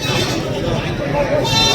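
Goats and kids bleating at a goat market, overlapping calls mixed with crowd chatter and livestock noise throughout, fairly loud and close.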